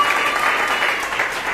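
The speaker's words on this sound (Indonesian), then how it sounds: "tepuk tangan bagi Tuhan" Church congregation applause, a brief burst of many people clapping together, fairly loud and continuous for under two seconds.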